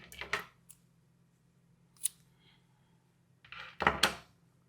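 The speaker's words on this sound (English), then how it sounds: "And then I'm just going to cut them down, or you can cut them down and weave them in." Scissors snip through crochet yarn tails up close. A few short, crisp cuts sound at the start, one lone snip follows in the middle, and a louder double snip comes near the end, with quiet gaps between and no talking.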